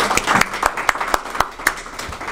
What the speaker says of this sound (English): Can I have a big round of applause for him?